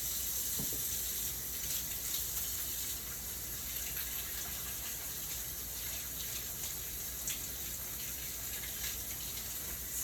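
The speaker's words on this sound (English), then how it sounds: "Wash these hands, and I'll be right with you guys." Hands washed under a running kitchen tap: a steady, close rush of water with faint splashing and small handling sounds, no speech.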